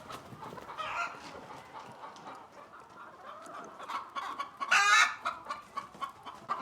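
Chickens cluck and murmur continuously in a busy poultry-farm coop, with one louder squawk standing out partway through.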